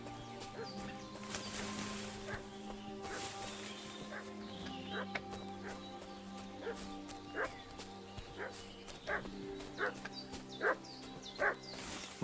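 Dog barking repeatedly in the Kingdom Come: Deliverance II video game, a series of short barks that grow louder and more frequent toward the end, over a low ambient game hum.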